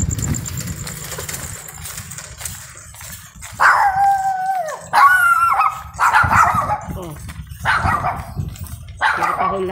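Dogs barking repeatedly along a street during a morning walk, sharp bursts and yips in clusters, fairly close, with talk and a passing engine in the background.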